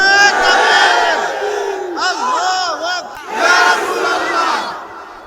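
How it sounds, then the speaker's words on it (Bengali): A large crowd at a religious rally roars out takbir in loud, full-throated bursts, with two or three surging waves of massed voices close and dominant. "এই জোরে একটা তাকবীর দাও, জোরে তাকবীর দাও"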